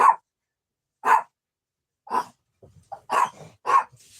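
A dog named Patches barks in sharp, spaced single woofs, about six in a row close by, with some quieter huffs and breathy sounds between them.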